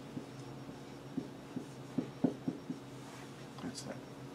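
Chalk taps and scratches on a lecture-hall board come as a series of short, soft knocks in an uneven writing rhythm over a steady room hum during a theoretical computer science lecture on regular expressions.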